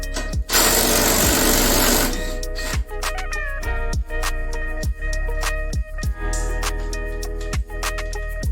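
A power tool removes strut tower bolts on a 2002 Toyota MR2 Spyder: a loud whirring burst, then a fast regular series of sharp ratcheting clicks close up, with no talking.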